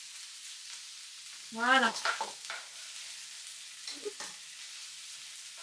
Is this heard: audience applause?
no